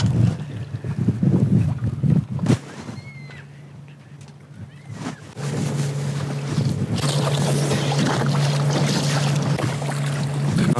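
Gusty wind roars and buffets the microphone on a sailboat, easing briefly in the middle before picking up again over a low rumble of the boat on the water.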